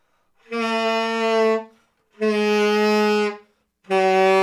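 Three sustained tenor saxophone notes played with too much mouthpiece in the mouth, giving a buzzy, pinched, overly bright tone, separated by short silences.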